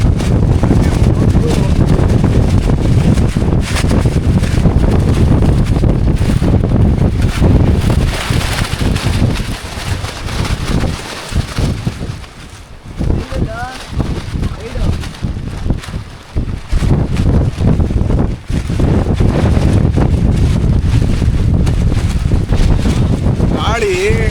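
Strong wind buffets and roars across the microphone in loud gusts on a mountain trek, easing briefly midway before surging again, with faint voices underneath.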